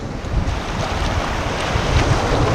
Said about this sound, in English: another little rapid, a couple hundred yards below Sweetheart